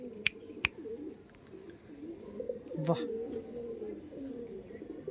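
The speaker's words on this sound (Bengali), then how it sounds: "এই দেখুন, এই ছিল নর পায়রা।" Pigeons in a loft, including a male bird, give soft low cooing throughout, with a couple of sharp clacks near the start and a brief burst partway through, while someone speaks a short word.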